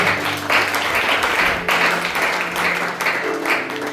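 A church congregation at a Sunday service applauds and cheers, bursts of loud clapping and voices repeating in waves, with a sustained tone from instruments or singing underneath.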